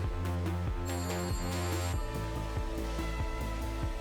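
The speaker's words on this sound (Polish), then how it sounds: "Telefon dzwoni." Telephone ringing inside the video game The Beast Inside, a repeating electronic ring with a steady pulsing rhythm, loud and close, heard alone without talk.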